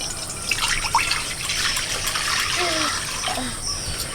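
Water poured into a hot pan of cooking teasel gourd, a close steady splashing, bubbling rush that runs throughout, with faint background voices.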